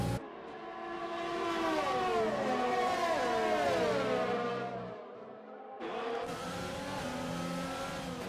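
Race car engines in F1 2020 at the Austria circuit scream past, their pitch climbing and falling as a car sweeps by, then a second car roars up after a brief dip in level.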